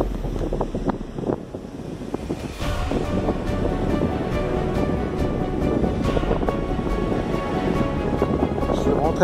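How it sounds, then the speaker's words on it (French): Ocean swell surging into a lagoon pass at Tahanea atoll on a calmer-wind day, with continuous broad wave wash and rumble plus wind buffeting the microphone, loud and close. "La houle rentre bien dedans."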